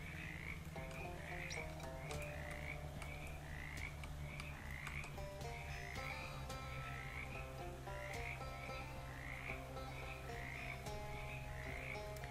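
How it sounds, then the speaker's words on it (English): Frogs croak in a swampy frog bog in the video game Shadows Over Loathing, a regular repeating chorus of short croaks over a soft ambient bed, with no talking. "Speak to the frogs."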